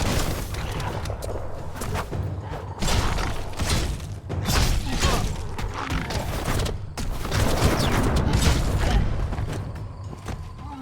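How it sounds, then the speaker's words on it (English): Gunfire and impacts in the video game Biomutant, with bursts of shots, booms and thuds coming in clusters across a busy, continuous stretch of combat at moderate level. "Bullets everywhere."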